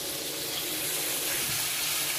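Water streams into a container to dissolve a bouillon cube for a homemade paella, a steady close hiss of pouring that runs unbroken for about two seconds.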